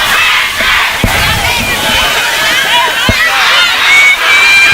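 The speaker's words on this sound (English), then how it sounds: "Panthers have a big crowd." A big crowd roars and shouts at a high school football game between Forest and Morton, a continuous loud outdoor din with a couple of sharp thumps.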